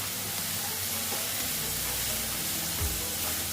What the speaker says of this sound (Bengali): দেখো ভালো মতো কষিয়ে নিচ্ছি